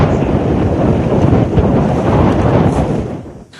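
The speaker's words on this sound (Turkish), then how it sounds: "Müthiş bir rüzgar" Strong, loud wind buffeting the microphone at a forest fire in wooded country, a steady roaring rush with no talk, easing slightly at the end.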